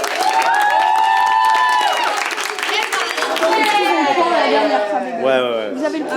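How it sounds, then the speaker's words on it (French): Excited crowd of students shouting and cheering with some clapping mixed in, loud and continuous throughout, voices overlapping in a lively jumble. "vous pouvez vous applaudir"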